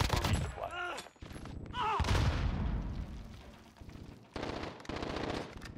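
Bursts of AN-94 rifle fire in Call of Duty: Modern Warfare crack out loud and rapid, broken into several strings with short pauses, mixed with other game effects and radio-style chatter.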